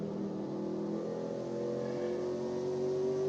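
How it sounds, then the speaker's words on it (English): A racing truck at Richmond Raceway in the iRacing game drones steadily as it brakes into a turn, its engine tone holding and then rising slightly, loud and continuous. "Just listen to that truck here as he dives into the turn."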